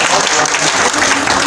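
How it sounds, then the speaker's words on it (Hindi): An audience applauds for Lubna Malik, a steady wash of loud, dense clapping from a crowd filling the whole moment without pause. "लुबना मलिक के लिए बहुत खूबसूरत ताली होनी चाहिए आपकी तरफ से"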